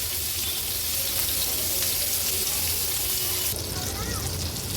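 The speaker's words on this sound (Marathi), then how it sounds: "दोन मिनिटांसाठी लो टू मीडियम फ्लेमवर ही मुशी मच्छी व्यवस्थित तळून घ्यायची आहे" Pieces of mushi fish fry in oil in a pan over low to medium flame, giving a steady, dense sizzle that carries on throughout without pause.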